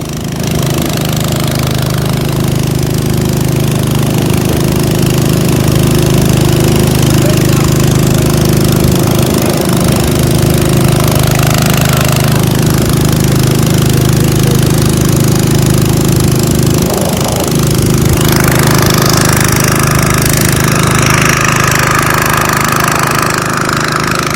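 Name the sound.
pumps running, pumping water out of a sunken boat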